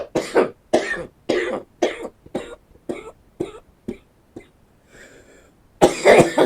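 A rapid series of about a dozen short coughs in a rhythmic string, close and loud, ending with a harsher burst.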